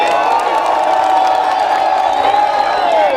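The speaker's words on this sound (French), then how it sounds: "Nous allons applaudir" A large crowd cheers and whoops at a political event in the Democratic Republic of Congo honouring President Félix Tshisekedi, a loud, sustained roar with high shouts and some clapping, steady throughout.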